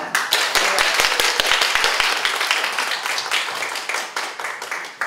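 Audience applause at a seminar, a dense wash of many hands clapping steadily and loudly throughout, with crisp individual claps standing out near the start.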